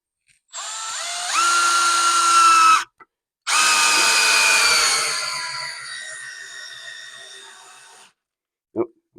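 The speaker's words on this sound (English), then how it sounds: "Just going to drive some 3-inch screws into these two 2x4s." A Milwaukee M12 installation driver sinks 3-inch screws into stacked 2x4s with two loud, close bursts of whining motor that rise in pitch, the second trailing off as it slows, followed by a short click.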